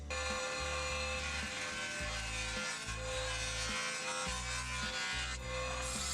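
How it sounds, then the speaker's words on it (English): A jointer hums and whirs steadily as board edges are cleaned up in a woodworking shop, with a rough cutting rasp that swells and eases as the wood is pushed across the cutterhead. The sound is continuous and fairly close. "clean up the edges with the jointer"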